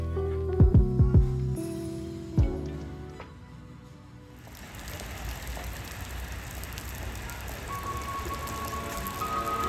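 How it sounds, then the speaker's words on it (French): Heavy rain falls in Tokyo near the tower, a dense, steady hiss of downpour that swells after a few low thuds and knocks at the start, with no voices. "Grosse pluie aujourd'hui, du coup le haut de la tour est dans les nuages."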